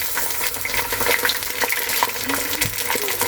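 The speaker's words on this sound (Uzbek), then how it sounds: "Endi bismillah deb go'shtlarni solaymiz" Meat hits a pot of deep-browned onions for Uzbek osh, and a loud, steady sizzle of frying follows, with crackling bursts and scraping from stirring throughout.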